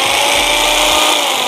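A jigsaw whines steadily at high speed, loud and close, running without a break for the whole stretch.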